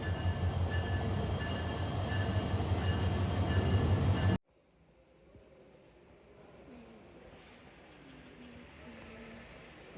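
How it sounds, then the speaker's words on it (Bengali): A train from Dhaka stands at Chittagong railway station during an engine change, its loud steady rumble and hum filling the first four seconds before cutting to a much quieter, distant station ambience. "এখন হচ্ছে এই যে ট্রেনের ইঞ্জিন চেঞ্জ করবে, এটা ঢাকা থেকে চিটাগং আসলো"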